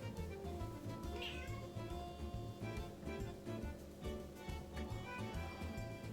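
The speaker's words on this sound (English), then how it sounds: "Oh, the cat." A cat meows repeatedly, close by, over a low steady hum.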